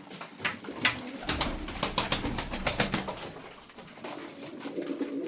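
Tumbler pigeons cooing close by, a run of repeated throaty coos with a soft flutter of wings, moderately loud and steady.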